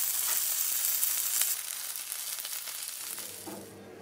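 Pork potstickers sear in an oiled pan with a steady, bright sizzle that stays close and loud, then eases toward the end, with no voice.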